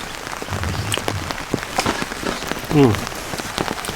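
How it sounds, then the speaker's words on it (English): Rain pattering on a tarp over a wilderness camp on a trout fishing trip, scattered drops tapping irregularly, with a brief low mechanical squeak partway through. "Raining?"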